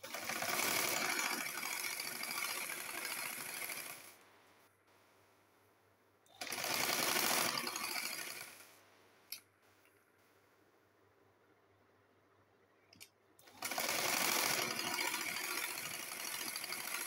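A sewing machine stitches the neckline of an Aliya-cut kurti in three loud, sustained runs, with quiet pauses between them that carry a low hum and a couple of sharp clicks.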